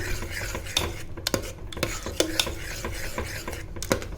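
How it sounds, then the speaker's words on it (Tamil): A spoon scrapes and clinks around a pot of sweet pongal in steady stirring strokes, with a faint sizzle underneath and no talking. "ஸோ கவனமாக நம்ம மிக்ஸ் பண்ணி விடணும்"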